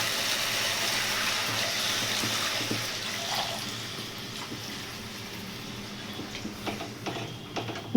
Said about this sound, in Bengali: এখন আমরা জল দিয়ে দেব।